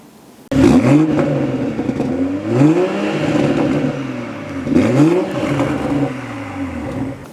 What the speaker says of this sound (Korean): 간략하게 해당 차량 배기음 다 보여드리도록 해볼게요.